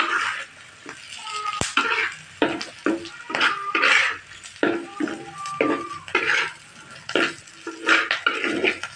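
Eggplant frying in a pan with cumin, turmeric and chili powder, as a spatula stirs and scrapes it in irregular bursts over a low sizzle, with occasional clinks of metal.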